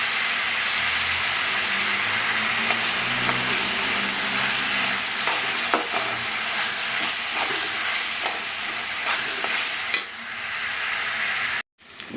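Tomato with turmeric sautés in a pan, giving a steady, close sizzle and frying hiss with occasional light stirring clicks. The sizzle runs continuously and then cuts off abruptly near the end.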